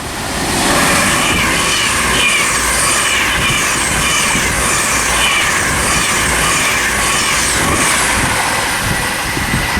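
Virgin Trains Pendolino running from Crewe to London Euston on the West Coast Main Line at Watford Junction, a loud, close, sustained roar with rhythmic wheel clatter and faint squeal from start to finish, with no voices.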